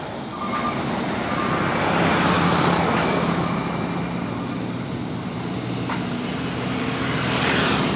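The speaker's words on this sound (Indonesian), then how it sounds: "Satu unit bus pariwisata Eka Putra." A tourist bus from the Eka Putra line rolls by on the trans-Sumatra eastern highway at Pandau, Marpoyan, its steady loud engine and road roar swelling and easing in one continuous pass amid traffic.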